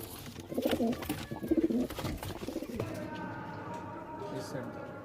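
Kaldum pigeons at a loft cooing in soft low throaty bursts, close by, mixed with people talking nearby and background rustling.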